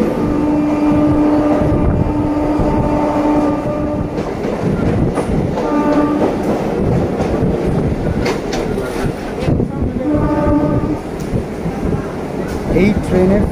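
A Sealdah to Barddhaman local train runs along the tracks, with a steady rumble and clickety-clack of the wagons sounding close and loud, and a brief horn-like tone rising at intervals.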